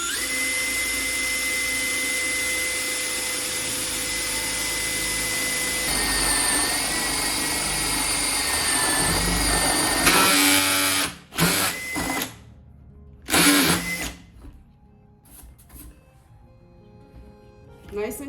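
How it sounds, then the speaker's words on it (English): Power drill spinning a paddle bit to bore a hole in wood, a steady loud motor whine that rises in pitch and strain partway through, then stops and restarts in short bursts before falling quiet. "So to start your hole, you put your paddle bit on your line."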